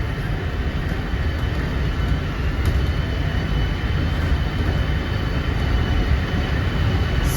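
Long Island Rail Road M3 electric train running eastbound toward Hicksville, a steady loud rumbling roar with constant wheel and rail noise throughout, heard from on board with no talk.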